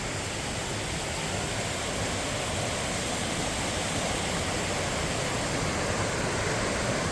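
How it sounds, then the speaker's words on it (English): A waterfall at a hiking spot, water sliding over rocks into a stream below, roars in a steady, dense, unbroken rush that stays loud and even from start to finish. "this looks like our first waterfall right here"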